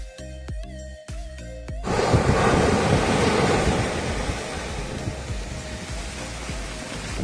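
Sea waves and a strong sea breeze at Thanni Beach in Kollam make a loud, continuous roar of surf mixed with wind buffeting the microphone, preceded by a few seconds of music.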